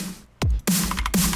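Punchy electronic snare drum sample from a remix production project, struck about three times in quick succession with sharp attacks and bright noisy tails.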